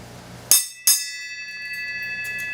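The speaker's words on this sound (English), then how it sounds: "Why don't you ring the bell and let's quit on that note" A single bell is struck twice in a garage where a 350 SS is being built. Each strike rings bright and metallic, and the second follows about a third of a second after the first. Sustained tones hang and fade slowly afterward.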